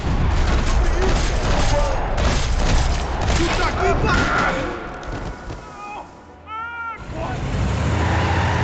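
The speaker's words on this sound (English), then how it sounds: "Another parking lot rattling with gunfire." Rapid bursts of gunfire and booming blasts in the video game Max Payne 3 fill a parking lot scene, dense and loud throughout, with a brief lull before the shooting picks up again.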